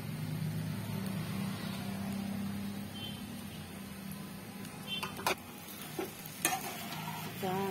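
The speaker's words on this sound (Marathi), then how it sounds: "ही खिचडी बारीक गॅसवरच परतावी" Sabudana khichdi sizzles softly as a spoon stirs it in a pan over a low gas flame. A faint, steady frying hiss runs throughout, broken near the end by a few sharper scraping clicks.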